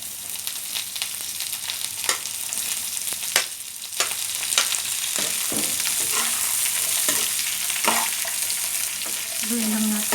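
Carrots stir-fried in a pan for pancit bihon, a steady close sizzle broken by repeated scrapes and clacks of a spatula stirring through the pan, running continuously with no talk.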